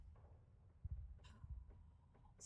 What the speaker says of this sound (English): You hear the heartbeat?